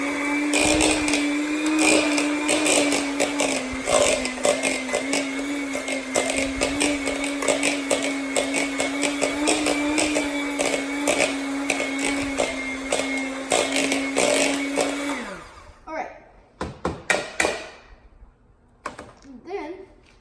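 An electric mixer beats cookie dough with vanilla added, a steady loud motor whine running for about fifteen seconds before cutting off, followed by a few scraping knocks against the bowl.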